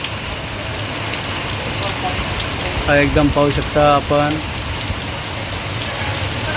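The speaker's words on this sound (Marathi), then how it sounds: "खूप चांगला पाऊस या ठिकाणी सुरू आहे" Steady, dense monsoon rain hisses across the whole clip in Degloor, Maharashtra, a continuous broadband wash, while someone speaks briefly over it in the middle.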